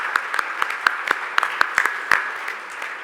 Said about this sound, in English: I want to give a round of applause to our streets team